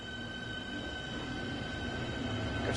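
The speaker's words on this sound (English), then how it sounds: "So we should get the traction motor sounds on the front 6." Class 395 train traction motors in the game Train Sim World 2, a steady electric hum and whine with constant rolling rail noise, fairly quiet and continuous.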